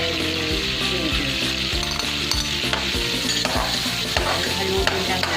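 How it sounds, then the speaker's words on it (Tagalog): Chopped garlic and ginger sizzling loudly in a hot pan with butter, stirred with a utensil that scrapes and clinks in a steady rhythm over a constant frying hiss. "Next is lagyan na natin yung bawang. Then ginger."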